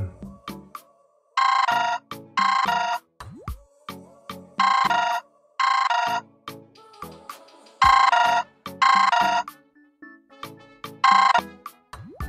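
A telephone rings in a Tamil awareness short film, repeated ring bursts in paired bursts with short gaps between them. The tone is clear and fairly loud with no talk over it.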